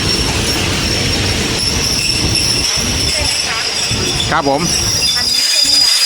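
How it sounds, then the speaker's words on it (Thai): Loud continuous rumble of ordinary Thai passenger train 201, Bangkok to Phitsanulok, departing a station, with rattling carriages and occasional wheel squeals, while someone speaks briefly in Thai over the noise. "รถไฟธรรมดาขบวน 201 นะครับกรุงเทพพิษณุโลกกำลังเดินทางออกจากสถานีรถไฟ"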